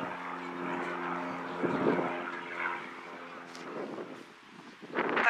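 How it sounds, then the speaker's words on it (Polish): A steady droning propeller aircraft passes overhead in Reykjavik, a low humming engine tone with airy noise, while a few faint voices or bursts of sound come and go. "O, leci samolot."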